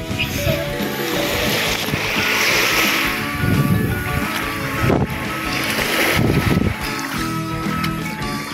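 Gentle waves wash steadily onto a white sand beach at Patar, Bolinao, a soft continuous surf with light wind noise and a few swells rising and falling.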